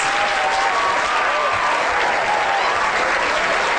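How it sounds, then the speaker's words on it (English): A lecture audience applauds volunteers called up from a row of seats, steady dense clapping held at full strength for a few seconds without a break. "Big round of applause"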